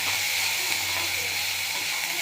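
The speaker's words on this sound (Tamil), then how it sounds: "சிறுகிழங்கு நல்லா கிளறி வைக்கணும்." Small yams being stirred in a hot pan, giving a steady broad hiss and sizzle that stays constant and close throughout, with no distinct scraping strokes standing out.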